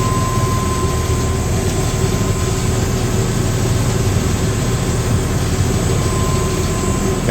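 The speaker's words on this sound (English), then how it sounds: "There, just heard the air compressor kick on over there." An air compressor on a chiller that is failing to cool runs steadily and loudly up close, a continuous machine drone with a low rumble and a faint steady tonal whine, holding constant throughout with no voices.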